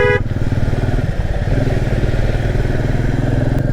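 A motorcycle on a mountain road to Gangotri, its engine thrumming loud and close with a steady pulsing rhythm as it rides on, a brief higher tone near the start, no voices.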